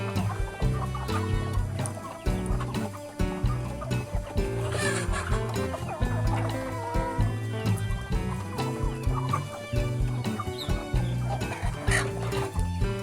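Chickens cluck around a feeding spot where ducklings are kept under a woven basket trap, a busy run of overlapping clucks and calls that carries on without a break.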